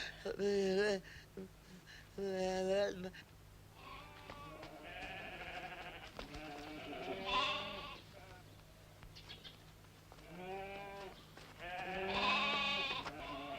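Goats bleat repeatedly in long, wavering cries, some loud and near, others softer, with short gaps between calls in a 1976 Indonesian comedy film scene.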